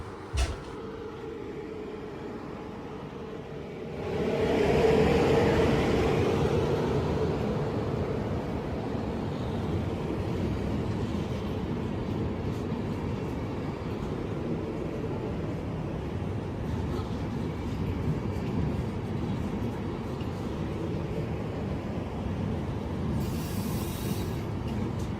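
A night train departs a station in far northern Sweden, with a low continuous rumble of wheels and motors that swells after a few seconds and then holds steady as it rolls on.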